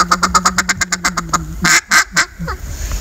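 A duck call is blown in a quick run of about a dozen short rhythmic quacks, then a few louder, longer drawn-out quacks, close and clear with no talking.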